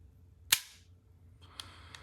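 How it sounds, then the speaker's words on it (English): A single sharp, loud shot from an ICS Korth PRS gas blowback airsoft pistol, close by with a brief hissing tail, followed by fainter mechanical clicks. "The trigger is super smooth. Like, it's the tiniest little take up on it, and the pistol will fire."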